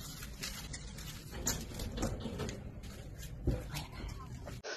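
A dog greets its returning owner after four days away, with quick scrabbling paws, bumps and small excited whimpers close by against a busy indoor background; a person's voice is faintly present.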